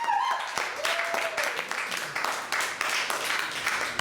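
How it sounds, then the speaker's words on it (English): Audience applause for a performer at an open mic night in the Heartland Cafe, a modest room clapping in uneven bursts, with a few whoops and voices rising over it. "Please, another round of applause for Oz."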